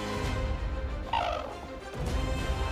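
Cranes calling from their pens on a dynamic coast, a loud, throaty gobbling and bugling chorus that rises and falls over steady low outdoor rumble, with no talk over it.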